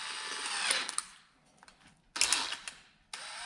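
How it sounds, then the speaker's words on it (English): A handheld power drill lapping engine valves whirs in short bursts with a grinding, scraping edge, stopping and restarting, with quiet clicks between runs. "Take my handy little drill,"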